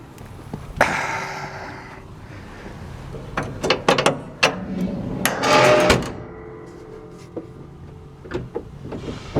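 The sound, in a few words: hood latch of a John Deere 310G backhoe operating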